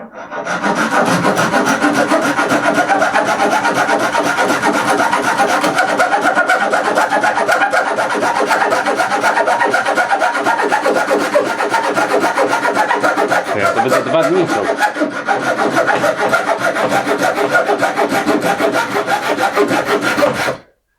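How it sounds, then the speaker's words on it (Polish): Parkside hand saw fitted with a coarse 10-tooth blade cutting through hard, dry birch, a steady loud rasping of back-and-forth strokes running continuously for about twenty seconds, close up, with no talk. "Tniemy, zobaczymy, jak się sprawdzi te 10 zębów."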